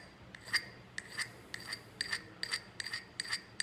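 A scraper rasps along a ferro rod in repeated short, bright scraping strokes, about two per second, close and fairly quiet, with no talking.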